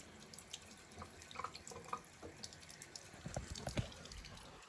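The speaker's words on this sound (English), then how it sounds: "If the lather is too dry, add some drops of water and then lather it again." Drops of water trickle into dry shaving cream lather, giving soft close-up drips and small wet splashes scattered over a quiet background.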